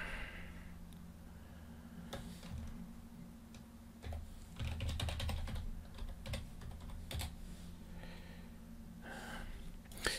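Fingers tap out a password on a computer keyboard, a quiet run of light, irregular key clicks over faint room hum, close and alone with no talking.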